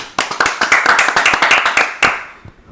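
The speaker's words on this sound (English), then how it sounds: "Clap it up for the program." A small group of people claps in a quick burst for about two seconds, sharp close hand strikes overlapping, then a couple of stray claps trail off.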